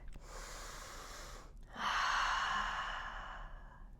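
Slow, deliberate breathing during a yoga warm-up flow from downward facing dog: a long quiet inhale, a brief pause, then a loud, airy exhale that gradually fades, close to the listener.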